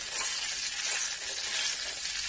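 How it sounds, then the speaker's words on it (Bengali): Cauliflower florets sizzle steadily in hot mustard oil for khichuri, a dense, even crackling hiss that stays loud and close throughout with no voices. "সর্ষের তেলটা আমার গরম হয়ে যাওয়ার পরে আমি দিয়ে দিলাম ফুলকপি"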